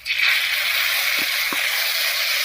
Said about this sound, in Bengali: দিয়ে দিচ্ছি পেঁয়াজ আর লঙ্কা বাটাটা